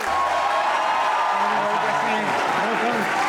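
Studio audience applause welcoming a guest onto a talk show stage, a dense, steady wash of clapping and cheering throughout, with a host's voice and music running underneath.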